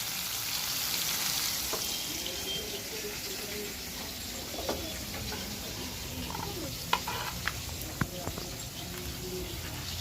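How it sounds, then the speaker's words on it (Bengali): Rohu fish sizzles in hot oil in a pan, a soft continuous crackle with occasional clinks and a few faint scrapes. "আমার মাছ আমি দিয়ে দিচ্ছি কড়াতে, ততক্ষণ একদিক ভাজা হোক।"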